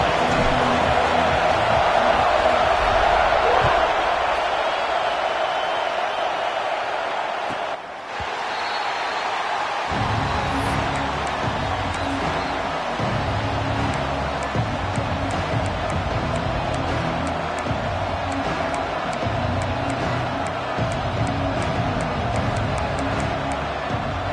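A football stadium crowd roars at a Huskers kickoff as a broad, steady wash of noise. It dips briefly partway through, then swells back and holds loud and continuous. A faint commentator's voice sits underneath.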